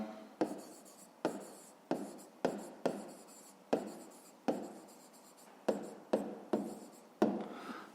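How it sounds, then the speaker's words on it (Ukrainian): Pen writing on paper during a fifth-grade maths exercise, heard as about a dozen crisp strokes that start sharply and fade, close and alone with no talk. "зараз записуємо тоді відповідь, пишемо відповідь"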